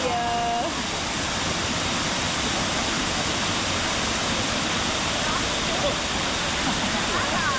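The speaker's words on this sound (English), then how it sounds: "Looks like one of the best waterfalls we've seen for swimming" Steady, full roar of a swimmable waterfall in Ubud, Bali, a constant rushing wash of falling water close by, with brief voices near the start.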